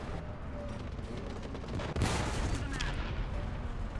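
In the War Thunder video game, tank turrets are blown off amid heavy gunfire and explosions, a dense, loud, continuous barrage with a sharper burst near the middle.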